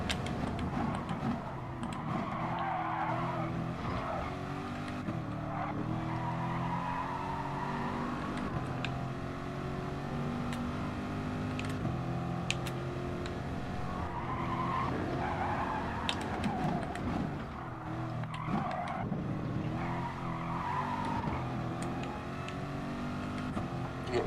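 Race car engine in Gran Turismo Sport, a GR.4 class car on a flying lap, droning steadily and loud throughout with shifting engine pitch and repeated tyre skid and squeal, no talk.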